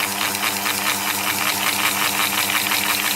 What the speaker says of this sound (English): Now we have this device spinning and lifting up at the same time.